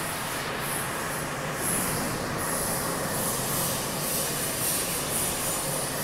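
A highway sound barrier box board forming machine, gear-driven, runs steadily with a dense, continuous mechanical roar and a high whine on top, holding level throughout with no voices.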